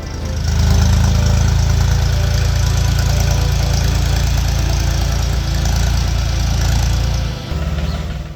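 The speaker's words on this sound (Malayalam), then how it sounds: "എന്നെയും കൂട്ടി ഈ തോട്ടത്തിലേക്ക് ട്രാക്ടറിൽ പോവാണ്" A tractor engine runs loud and close while driving through a grape vineyard on a family farm in Maharashtra, a steady low chugging drone that holds evenly, dips briefly near the end, then resumes.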